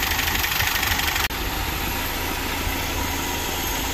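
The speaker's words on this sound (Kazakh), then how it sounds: "Мотордан мынандай артық звук болып шығып тұр, механический" A Mercedes car engine idles steadily close by, with a faint rapid mechanical ticking from the hydraulic lifters running through the drone and a brief dropout early on.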